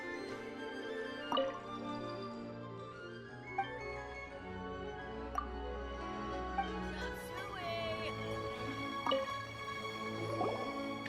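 Water being fetched in Genshin Impact: soft drips and splashy liquid plinks recur every second or two over a sustained tonal music bed, with no talking.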